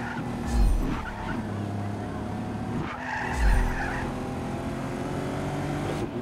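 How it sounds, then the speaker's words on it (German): Car drifting with squealing, skidding tyres in the video game Just Cause 3, a sustained tyre screech over engine noise with two louder bursts, while someone talks over it. "Versuche ein bisschen zu driften,"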